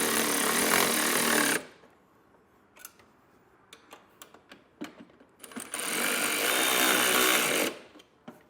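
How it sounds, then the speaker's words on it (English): Bolts on Carr custom-fit side steps for a 2020 Jeep Wrangler are run down with a 7/16 socket: two loud, sustained whirring bursts of a couple of seconds each, separated by scattered sharp clicks and taps. "To tighten these down, you're going to want a 7/16 wrench and then a 7/16 socket"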